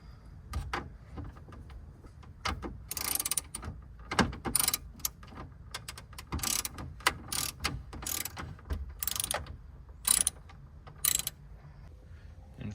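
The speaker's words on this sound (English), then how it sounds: "we're gonna actually take out these 4 screws on the sides" A socket ratchet backs out the side screws holding the radio in a Ford F-150 truck. It gives bursts of close, sharp clicking with short pauses between them, and no voices are present.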